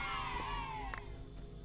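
A cat gives a drawn-out, fairly close meow that slides downward in pitch, heard over a steady background hum.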